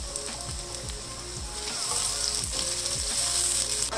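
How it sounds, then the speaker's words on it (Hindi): Onions fry in oil for butter chicken, a dense close sizzle with rhythmic low scrapes of stirring, growing slightly louder toward the end. "यहाँ पे देखें जी प्याज को ऑयल में फ्राई करते हुए मुझे तकरीबन 2 से 3 मिनट हो गए"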